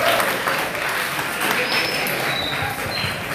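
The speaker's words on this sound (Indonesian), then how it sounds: "tepuk tangan dulu untuk saudara kita" Audience applause at a National Santri Day celebration at Pesantren Assalafie Babakan, a steady dense wash of clapping throughout, with crowd noise and a voice faintly underneath.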